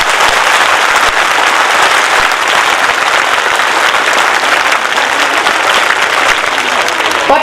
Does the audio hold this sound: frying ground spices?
no